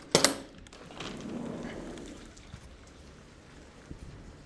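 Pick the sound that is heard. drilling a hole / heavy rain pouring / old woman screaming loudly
heavy rain pouring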